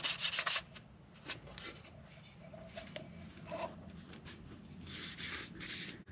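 A finger rubbing against an H22 oil pump part gives soft, close scraping and rasping strokes in short bursts, quiet and alone with no talk.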